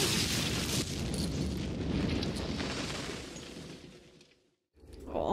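A bomb explosion in the 1998 war film Saving Private Ryan, a heavy, sustained roar and rumble that tapers off into brief silence before another loud burst begins.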